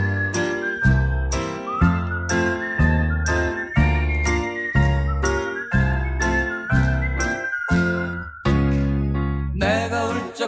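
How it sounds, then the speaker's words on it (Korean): A bright whistled melody floats above a steady, rhythmic band accompaniment at a Won Buddhist sermon gathering, running continuously through the passage with pulsing beats underneath and no talking. "휘파람도 아시면 따라서 하세요."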